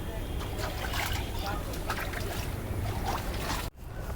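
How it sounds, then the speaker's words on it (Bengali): A small hired rowboat carries two people across open water, giving a steady wash of water and hull noise with faint voices mixed in, ending in a sudden cut. "আমরা দুজন নৌকাতে উঠে গিয়েছি"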